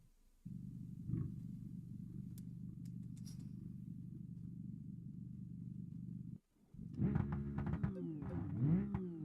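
A virtual car engine fitted with exhaust stacks in the BeamNG driving game idles with a steady low drone, cuts out briefly, then revs up and down a few times.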